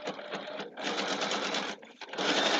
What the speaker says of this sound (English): I'm just going to make my stitch length longer and run the stitch